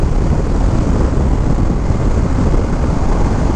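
A 2025 Indian Scout 101 motorcycle roars steadily while riding, the engine and wind rush dense and loud without a break for the few seconds heard.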